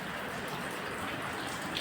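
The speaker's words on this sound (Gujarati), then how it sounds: "ભાઈ વરસાદ પાછો શરૂ થઈ ગયો છે." Steady rain falling, a soft even hiss of drops on surfaces, faint and continuous with no voices.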